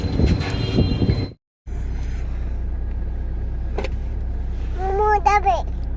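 Street traffic stands jammed at Dharmatala on a rainy day, giving a continuous low engine rumble with a brief dropout, scattered horn-like tones near the end and occasional voices.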